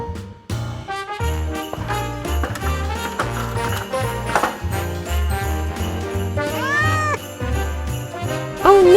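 A cat meows several times in a toy train play scene, with drawn-out rising and falling cries over busy background music and jingling.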